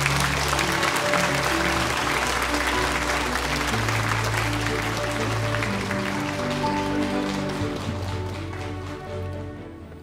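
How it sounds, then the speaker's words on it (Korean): Sustained applause from a seated audience fills a hall at the KBS Overseas Koreans Award ceremony in 2013, steady and loud before gradually tapering off at the end. "박수로 맞아주시기 바랍니다"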